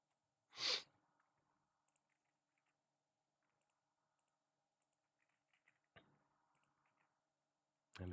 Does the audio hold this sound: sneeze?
yes